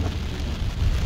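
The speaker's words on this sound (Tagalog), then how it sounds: "pero ngayon grabe ang ulan" Heavy rain falls outdoors on a rainy New Year's Day, a loud, dense, continuous roar of downpour with a low rumbling undertone, steady and close.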